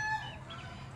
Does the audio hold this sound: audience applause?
no